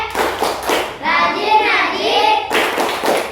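Children clap in rhythmic bursts during the tepuk anak soleh chant in an Indonesian classroom, with chanting children's voices between and over the claps.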